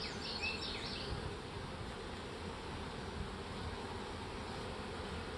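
Honey bees buzz around an opened hive where a queen cell is being placed in a nuc, a steady swarming drone close to the microphone with faint outdoor wind or rushing behind it throughout.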